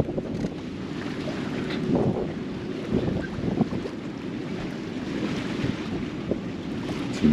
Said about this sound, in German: 13 Knoten Wind.